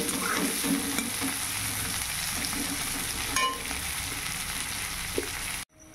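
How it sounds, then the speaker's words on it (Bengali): Three eggs frying together in mustard oil in a pan, a steady close sizzle with light scraping, cut off abruptly near the end. "3টে ডিমগুলো একসঙ্গে ভাজতে দিয়ে দিয়েছি"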